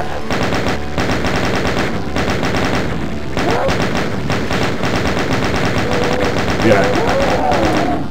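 Chaingunner enemies fire nonstop in Final Doom, a dense, loud rapid-fire rattle of gunshots filling the whole stretch with no pauses.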